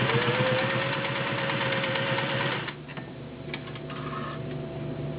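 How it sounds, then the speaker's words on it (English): All-metal gear-drive Singer 603E touch-and-sew machine stitching a zigzag pattern, running steadily with a loud mechanical whir, then easing to a quieter hum with a few light clicks. "Any touch and sew that you sew with is going to be a little noisy."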